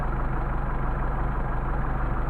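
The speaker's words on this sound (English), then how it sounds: "we're idling at about 600, 625" Mercedes 190SL engine with Solex carburetors idling at about 600 RPM, a steady low rumble with an even pulsing beat, close and constant.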